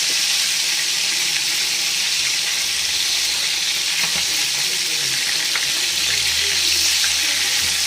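Oolimeen fish fries in a wide pan, giving a loud, dense, continuous sizzle and crackle of hot oil that carries on steadily as the pieces are turned over.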